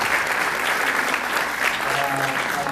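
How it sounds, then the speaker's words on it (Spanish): A conference audience at a climate change event in Bogotá applauds, producing dense, continuous clapping at an even level throughout with no gaps. "Un aplauso, por favor, para nuestro programa."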